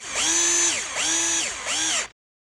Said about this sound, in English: open up the inner hole of the bushings with a step bit while holding them with my hands